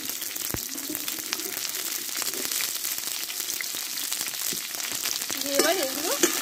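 Potatoes and yardlong beans fry in a pan with a close, steady sizzle and crackle, with stirring clatter and a short burst of voice near the end.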